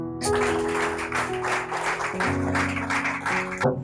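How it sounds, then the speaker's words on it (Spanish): Applause from a church congregation during a Sunday family service, a dense steady patter of many hands lasting a few seconds, with sustained musical tones running underneath before it cuts off. "Den un fuerte aplauso."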